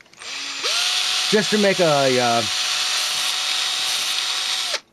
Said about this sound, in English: I'll just drill holes and glue a bunch of these in here